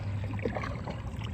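Kayak paddle strokes pull through water outdoors, a steady close wash of splashing and dripping with a low hum beneath, continuous and unbroken across the moment.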